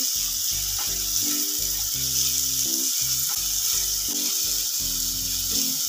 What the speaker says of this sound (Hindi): लहसुन को हल्का सा भुनने के बाद इसमें ऐड करती हूँ बारीक चॉप के ऑनियन